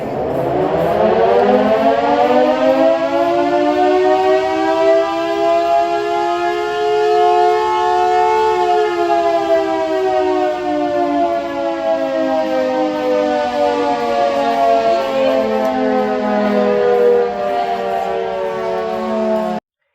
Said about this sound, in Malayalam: രാവിലെ 6 മണിക്കും ഉച്ചയ്ക്ക് 1 മണിക്കും വൈകിട്ട് 5 മണിക്കുമാണ് കണ്ണൂർ കോർപ്പറേഷനിൽ നിന്ന് ഈ സൈറൺ മുഴങ്ങാറുള്ളത്.